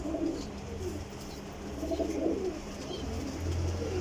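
Flying pigeons at a bird sale in Jhelum, low soft cooing that runs steadily through the clip against a faint background hum.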